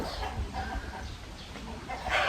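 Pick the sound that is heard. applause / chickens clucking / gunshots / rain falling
chickens clucking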